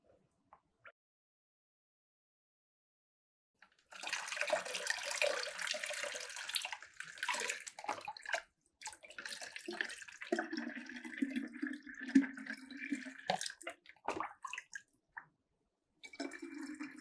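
Water is poured to fill a container for a hydrostatic pressure classroom experiment, a loud gushing, splashing stream that starts after a quiet stretch, briefly pauses, and resumes with gurgling as the container fills.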